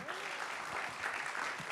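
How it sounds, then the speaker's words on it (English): Applause from a panel forum audience for a small business capital access event, a soft, steady patter of clapping from a room of people, faint and fairly distant, lasting the whole moment. "So just again, a round of applause for the panel, everybody."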